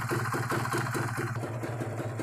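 Kawasaki Ninja 150 RR two-stroke motorcycle from 2012 idling warm with the choke off, a steady close burbling putter with rhythmic pulsing and no voices.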